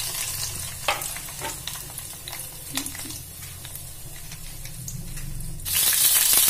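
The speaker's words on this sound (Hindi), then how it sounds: "पहले हम मिर्चा को फ्राई कर लेंगे।" Green chillies fry in hot oil in a home kitchen pan, giving a steady, close crackling sizzle with occasional sharper pops, which swells louder near the end.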